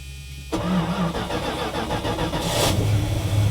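A V8 car engine cold starts with a cranking burst that catches into a loud, rough, rumbling idle, close by and continuing without talk.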